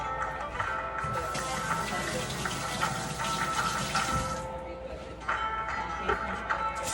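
Tap water runs steadily over hands being washed at a kitchen sink while preparing a rack of lamb, a continuous close splashing stream with a brief dip near the end and faint voice-like sounds beneath.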